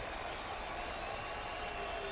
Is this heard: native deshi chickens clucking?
no